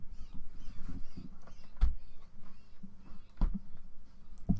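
A crow caws outdoors among trees, several harsh calls spaced a second or so apart, moderately close and standing out above a low steady background hum.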